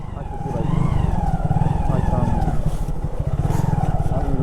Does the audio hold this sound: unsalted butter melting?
no